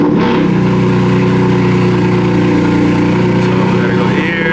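A BMW M4 engine cranks and catches, then settles into a loud, steady, deep idle with a rough mechanical drone close to the car and a brief rise in revs near the end.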